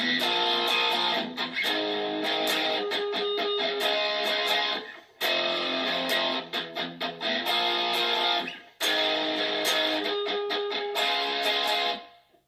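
A distorted electric guitar chugs a loud power-chord riff picked with a plectrum, broken by percussive left-hand muted scratches, repeating in three phrases separated by short pauses.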